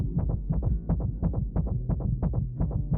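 Accelerated heartbeat from a promotional clip for the horror film Longlegs: a steady, fast, regular thumping pulse of paired low beats, loud and close, continuing alone without any talk.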